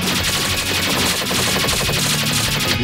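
Rapid gunfire from the shooting video game Gensokyo no nazo, a dense, loud, steady stream of repeated shots fired in quick succession without pause, with no voices over it.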